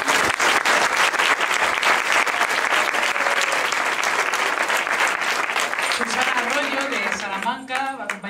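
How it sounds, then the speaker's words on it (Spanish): Audience applauding at a live folk music event, loud sustained clapping from a crowd throughout, with some voices and cheers rising near the end. "Un aplauso."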